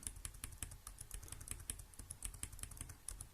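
A computer keyboard clicks quietly as numbers are typed into Excel cells, a quick irregular run of light keystrokes at close range with no voices.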